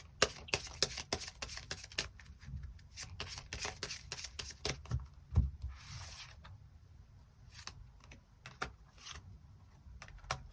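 Tarot cards riffle and slap in rapid bursts as they are shuffled and drawn. A dense flurry of close, crisp card noise comes first, followed by scattered flicks and taps, with no voices.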